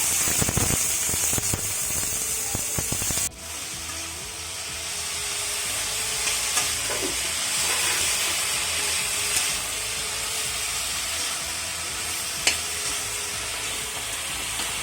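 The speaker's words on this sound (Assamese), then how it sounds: "এইখিনি ধুনীয়াকৈ ভাজি লওক।" Onion, chilli and other ingredients fry in a pan for a local Assamese dish, a loud hiss that drops after a sharp break into steadier sizzling with occasional stirring scrapes and no voices.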